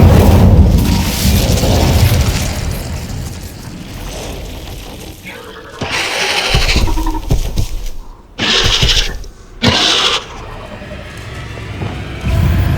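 Bombarda spell blasts in Hogwarts Legacy inside a cave, sounding as loud booming bursts with deep rumble, several separate explosions spaced apart, with a game voice calling out.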